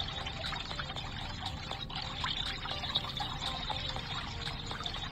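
Water trickles and pours in a fountain puzzle game, a soft continuous liquid flow with small splashy ticks throughout, no talking.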